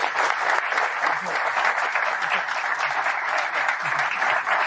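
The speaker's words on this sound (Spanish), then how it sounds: "Lo presentamos con un fuerte aplauso." An audience in a conference hall breaks into loud, sustained applause for a speaker being introduced, dense clapping filling the room at an even level throughout.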